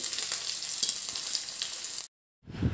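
Garlic, onion and tomato frying in a pan for a spiced vegetable dish, a close, dense sizzle with scraping stirs, cut off by brief silence before the sizzle returns.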